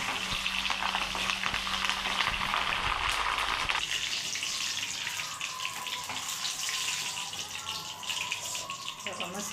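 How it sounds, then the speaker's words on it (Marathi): Green chillies frying in hot oil, a loud, dense, bubbling sizzle that runs the whole time, with a low hum that drops away after a few seconds and faint voices under the crackle. "मस्त मिरच्या तळल्यात, एकदम छान झाल्या"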